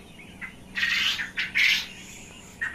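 Quail on a quail farm give short, bright chirps and squawks in quick bursts, close and fairly loud over a quiet background.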